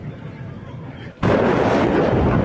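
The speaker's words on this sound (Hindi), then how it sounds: "यह धमाका हुआ है रेलवे टैंक में, मालगाड़ी में, उस मालगाड़ी में जिसमें ईंधन भरा हुआ था" A fuel-filled railway freight tank car explodes in Russia's Tambov region, a sudden loud broadband blast that jumps out of quieter rumbling background noise and sustains as a dense roar.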